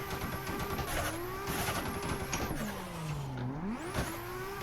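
A drift car's engine revs hard on throttle at Ozark Raceway, with rising and falling pitch sweeps and a brief tire squeal, close and continuous throughout.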